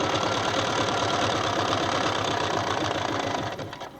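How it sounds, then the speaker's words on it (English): A sewing machine stitches down pieced quilt batting scraps with a fast, steady mechanical whir and chatter, running continuously before easing off at the end. "just finish off sewing down your last pieced set of batting"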